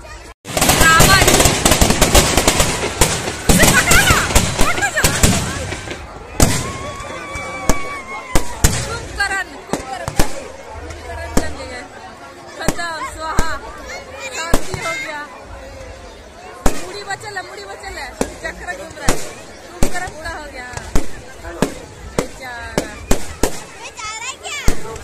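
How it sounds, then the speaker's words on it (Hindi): Fireworks and firecrackers burst at a Ravan Dahan Dussehra celebration: a dense, loud barrage of rapid cracks early on, then scattered sharp bangs and crackles over crowd chatter and voices. "हम लोग यहाँ पर रावण दहन और आतिशबाजी किस तरह से"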